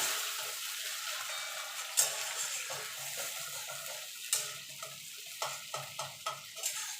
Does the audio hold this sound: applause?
no